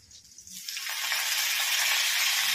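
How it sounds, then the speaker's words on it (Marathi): Onion sautéing in a pan with turmeric and coriander for a Maharashtrian bhogi bhaji, a steady broadband sizzle swelling to full strength after about half a second and holding loud and continuous. "आणि कांदा टाकून घेणार आहोत। तो छान असा परतून घेणार आहोत।"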